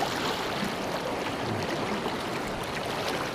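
Steady, full-bodied rush of a fast-flowing river fills the whole clip, a constant broadband roar close by with no voices.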